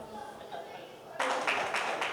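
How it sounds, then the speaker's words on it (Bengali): Loud applause breaks out from a crowd at a Poila Boishakh community celebration, a dense burst of clapping that starts abruptly after a murmur of voices and continues steadily to the end. "এই মুহূর্তের জন্য একটা জোরে হাততালি হয়েছে"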